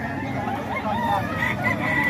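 Rooster in Tondo crowing, a drawn-out wavering call at moderate distance over a busy low background murmur, with a second fainter crow following.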